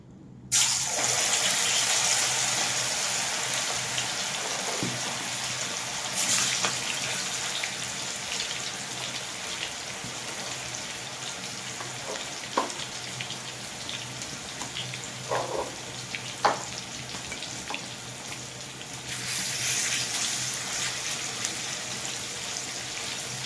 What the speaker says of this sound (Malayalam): ഇതൊന്ന് ചൂടായി കഴിഞ്ഞാൽ ചിക്കനൊന്ന് വറുത്തെടുക്കാം